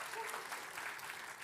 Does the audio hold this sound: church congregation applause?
yes